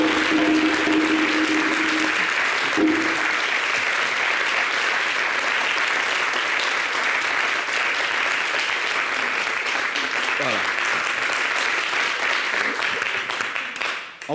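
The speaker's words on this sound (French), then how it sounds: "qu'il entende vos applaudissements de soutien" A large audience applauds in support of President Ouattara, the clapping loud, dense and unbroken throughout, tapering only in the final moment.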